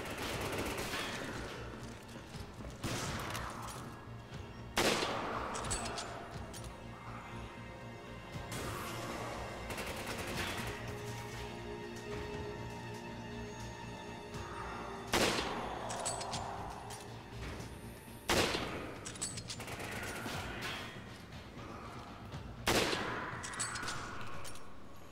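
Gunfire in the co-op shooter Resident Evil 5: several sharp shot bursts at irregular intervals over a steady game soundscape, no talking.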